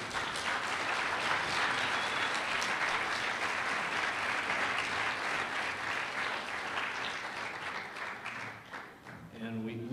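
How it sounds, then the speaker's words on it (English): An audience at a sports banquet gives a long round of applause, dense, steady clapping filling the room for several seconds before it thins out near the end. "Give them a round of applause, please."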